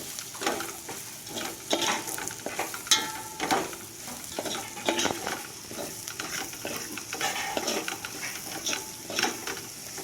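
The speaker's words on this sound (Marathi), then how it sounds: "आता हे सगळं घातल्यानंतर पुन्हा हे सगळं ढवळून घ्या छानपैकी." A spoon stirs Maharashtrian dalimbi amti, a field-bean curry with goda masala, in a pan. The clattering, scraping strokes repeat irregularly over a soft sizzle, close and fairly quiet, with no talking.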